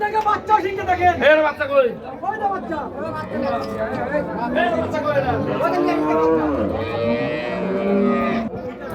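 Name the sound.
cows mooing at a cattle market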